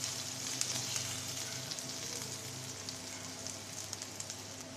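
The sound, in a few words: onion and garlic frying in pan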